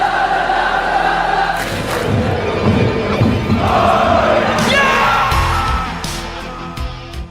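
Football supporters in a German stadium keep up a dense, unbroken roar of chanting and yelling, a loud wall of crowd noise that fills the whole stretch without pause.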